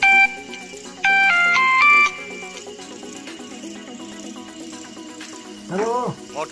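A phone rings at night with a few loud electronic tones near the start, followed by a quieter musical background and a brief rising voice-like sound near the end.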